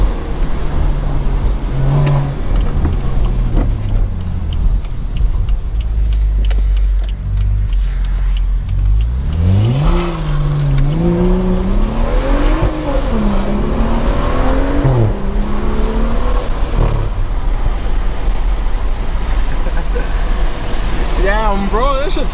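A Stage 2+ tuned BMW engine revs up and down in rising and falling sweeps after a steady low rumble, with occasional exhaust pops crackling near the end, loud and close, accompanied by people talking.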